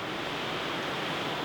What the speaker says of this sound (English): So this is the Ohura River and Ohura Falls. This is a lower waterfall.